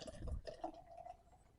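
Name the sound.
beer being poured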